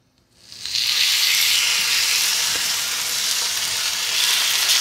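Swordfish laid into a hot pan with onions, breaking into a loud, steady hiss of searing that swells quickly and holds close and constant with no talking.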